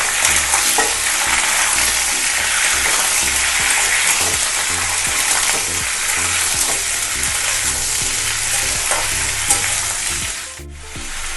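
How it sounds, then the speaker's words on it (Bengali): Mixed vegetables, including carrot and capsicum, fry in a pan for a paneer dish, with a steady loud sizzle and repeated scraping stirs throughout, alone with no talk. "এবার আমি সব সবজিগুলো একটু ভাজতে থাকবো"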